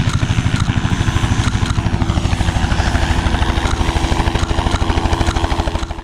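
A helicopter close by during a wedding photography flight, its rotor thumping in a fast, even rhythm over a steady engine whine, loud and continuous throughout.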